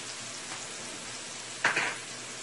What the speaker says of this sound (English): You're going to let it saute